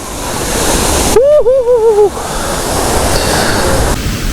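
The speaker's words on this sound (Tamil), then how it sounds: "வேற லெவல் ஃபால்ஸ் கைஸ்" Soormane Falls waterfall roars with a constant broad rush of falling water at close range, while a voice briefly exclaims over it near the start.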